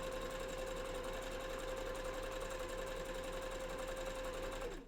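Sewing machine running steadily, stitching a small zigzag along a fursuit bandana; a continuous close whir with a steady tone, no pauses, stopping abruptly at the end.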